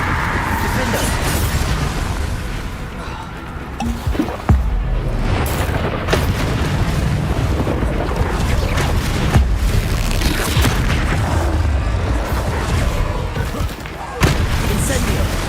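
Explosive combat spells in Hogwarts Legacy, loud repeated booms and blasts cracking over a dense, rumbling battle din, with a voice speaking over the noise.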